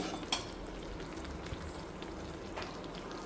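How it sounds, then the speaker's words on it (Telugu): Ingredients for homemade hair oil fry in a pan of oil, giving a low, steady crackling sizzle with a couple of sharper pops, quiet and without voices. "సో ఇవన్నీ కూడా పూర్తిగా వేగిపోతాయి, మనకు ఆయిల్లో వేగినట్టు వేగిపోతాయి అన్నమాట."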